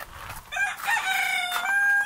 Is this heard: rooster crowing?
yes